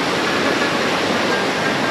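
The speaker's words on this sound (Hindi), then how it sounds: "हम पहुंच गए ट्विंस वाटरफॉल पे। ये है ट्विंस वाटरफॉल," The Twins waterfall at Sajikot near Havelian, Abbottabad, roars as a steady, loud broadband rush of falling water, heard close up and constant throughout with no voices.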